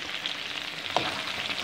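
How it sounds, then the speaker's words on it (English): Minced meat sizzles steadily in a pan while being stirred, a constant close crackle with one brief scrape of the spoon partway through, and no talking. "Give it another quick stir."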